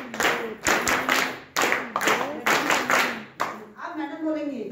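A group keeps time with loud, crisp hand claps in a steady repeating rhythm during a children's performance, while voices chant along between the claps.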